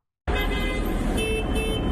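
Steady, dense morning street traffic in Paris with a car horn honking through the rumble of engines.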